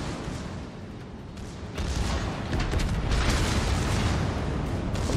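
Naval battle in a video game, the battleship USS Alabama's big guns firing, with heavy booming blasts merging into a dense, continuous rumble that swells louder partway through.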